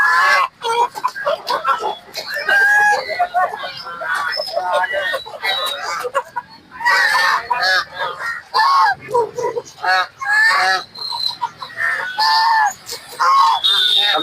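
Geese, guinea fowl and other poultry honk and cluck loudly and repeatedly at a busy poultry market, the calls close and overlapping while people talk nearby.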